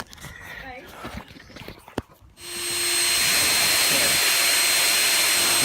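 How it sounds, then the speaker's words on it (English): A Dremel rotary tool spins up to a loud, steady high whine while cutting off a corroded nut outdoors in a garden, following scuffling handling sounds and a sharp click. "Going to bring the Dremel in."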